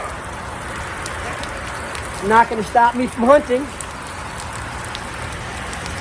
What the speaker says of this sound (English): as you can see, it's raining pretty hard.